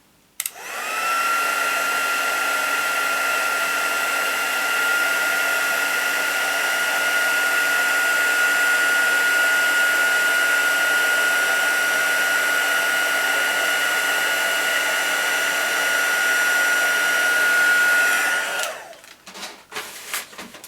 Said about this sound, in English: Probably notice I don't believe in wiggling my heat tool all around